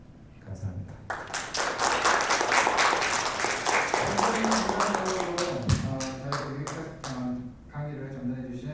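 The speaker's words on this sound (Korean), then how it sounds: "다시 한번 큰 박수 부탁드리겠습니다" Audience applause at a youth conference lecture in New York, a dense burst of clapping that swells, holds, then thins out, with some voices mixed in toward the end.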